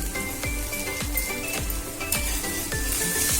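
Tender okra sizzles in a pan with a steady frying crackle, while a spoon scrapes and stirs in a regular rhythm of soft repeated strokes, close and moderately loud.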